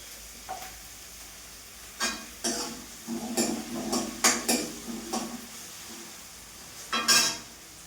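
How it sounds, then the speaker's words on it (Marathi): Onion roasts in a pan, with a soft sizzle beneath repeated scraping and clinking of a spoon stirring against the metal, the strokes coming in uneven bursts. "थोडासा भाजून घेऊ कांदा."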